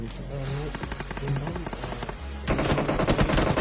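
Rapid automatic gunfire from the mobile battle royale game PUBG Mobile crackles in repeated bursts, growing louder and denser partway through.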